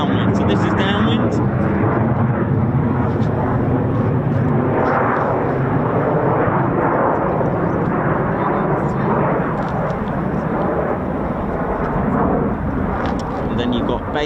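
A US Air Force fighter jet, F-15 or F-35 of the 48th Fighter Wing at RAF Lakenheath, flying the downwind leg of the landing circuit; a loud, sustained jet rumble swells and fades in waves, with a voice talking over it.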